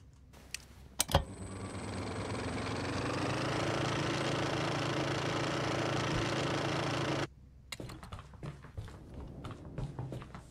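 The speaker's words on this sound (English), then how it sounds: "Your flashlight sounds like a moped." A flashlight gives off a loud, steady buzzing drone like a moped engine, starting abruptly after a click, running about six seconds and cutting off, followed by scattered tapping and handling noises.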